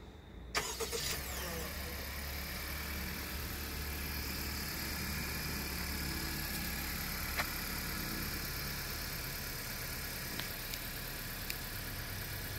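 A 2018 Honda CR-V EX-L brought to life by remote start, its engine catching with a short burst and then settling into a steady, quiet idle that runs on evenly, with no voices.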